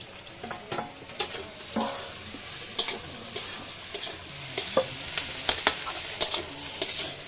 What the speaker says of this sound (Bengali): বেগুনটা ভালোভাবে কষানো হয়ে গেছে এবার আমি এর মধ্যে দিয়ে দেবো ভেজে রাখা চিংড়ি মাছ